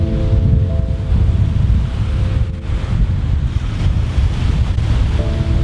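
Steady strong wind buffeting the microphone over lapping harbour water in Estonia, a constant loud roar with no voices.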